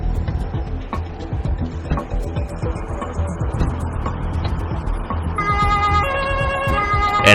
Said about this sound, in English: Officer Mannen switches on the sirens.